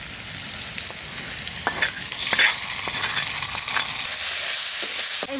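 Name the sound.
spices frying with bay leaf, cumin and onion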